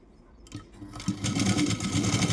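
A sewing machine stitches the shoulder joint of a blouse, starting with a few slow stitches before running up to a steady, close mechanical whir.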